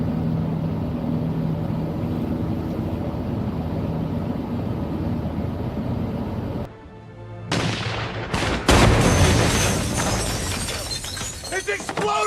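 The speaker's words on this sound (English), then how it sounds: "It's exploding!" Loud, dense roar cuts out abruptly, then returns with sharp crackling bursts and a sustained rumbling blast, consistent with a close explosion, while people talk and shout over it.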